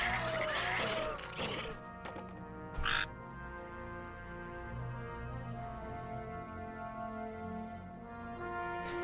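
Frog croaks in Warcraft 3 Reforged during a soldier tower defense match, a few short bursts sitting over continuous tonal game music and effects, with no talking.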